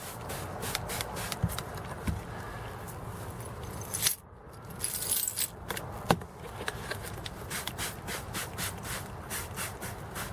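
Close metallic jingling and clinking of keys being handled, with intermittent rustles and a brief hiss partway through.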